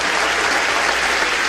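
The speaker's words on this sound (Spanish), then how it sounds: "un aplauso al pastor Molina por este tiempo" A church congregation applauds its pastor, a dense, steady wash of many hands clapping at once, loud and continuous with no voices standing out.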